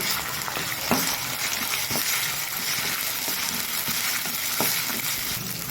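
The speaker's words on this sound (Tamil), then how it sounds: "இஞ்சி பூண்டு பேஸ்ட் ஆட் பண்ணி நல்லா வணக்கிறோம்" Homemade ginger garlic paste sautés in a hot pan for a green gram gravy, a steady crackling sizzle with occasional stirring scrapes, close and continuous with no voices.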